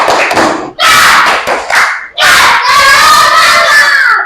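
A school class performs a rhythmic clapping cheer, tepuk semangat, with loud patterned claps and taps broken by short pauses, then a burst of children shouting together in unison.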